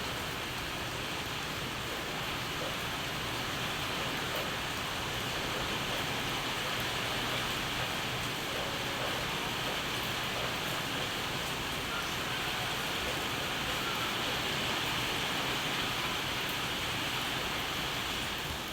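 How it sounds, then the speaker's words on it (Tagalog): Steady, dense rain hisses continuously without pause, a broad wash of noise with no voices. "Malakas na naman po ang ulan."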